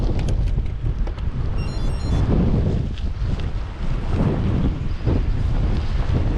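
Gusty crosswind buffeting a cyclist on a ride, a loud continuous roar of wind against the microphone that swells and eases with the gusts, with no voice heard.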